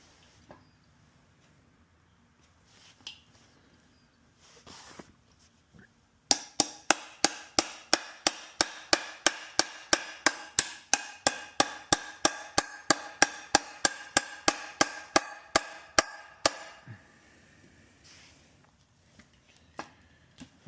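A U-joint is hammered in on a 1962 Chevy Biscayne driveline. After some quiet handling noises comes a long, steady series of about thirty sharp, close hammer blows, followed by a few scattered taps.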